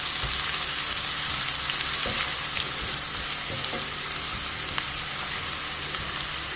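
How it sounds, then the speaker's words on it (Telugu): Chili powder and coriander powder sizzle in hot oil in a pan for tomato kurma, a dense, steady crackling hiss with occasional faint stirring scrapes throughout. "దీన్ని ఇప్పుడు 1 నిమిషం వేగనివ్వాలి"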